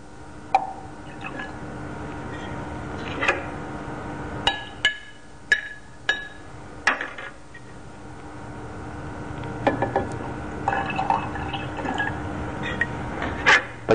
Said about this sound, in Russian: Будем теперь подливать в банку с пресной водой потихоньку соленой воды и помешивать при этом воду в банке.